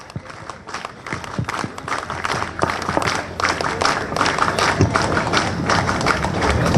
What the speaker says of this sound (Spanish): para que pida fuertes aplausos